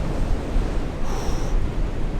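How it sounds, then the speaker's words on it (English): Waves rolling and breaking along the Ballintoy coast near Sheep Island, a continuous rumbling surf with heavy wind buffeting the microphone, steady and loud. "Those waves are getting a bit big now."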